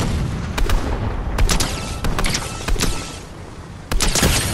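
Booming blasts and gunfire in the Fortnite video game: several sharp, loud explosive hits land amid a dense battle din with rumbling low end, recurring irregularly close up.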